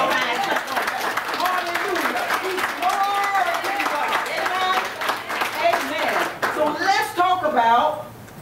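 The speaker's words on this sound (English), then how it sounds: "Give Him a hand clap." A church congregation claps their hands in applause for God during a sermon, a steady wash of clapping running the full length beneath loud voices calling out and speaking throughout.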